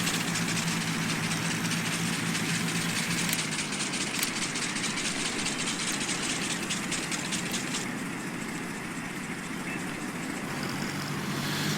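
Mowers running in the Farming Simulator 19 video game give a steady mechanical engine drone that holds at constant loudness throughout, with no talking over it.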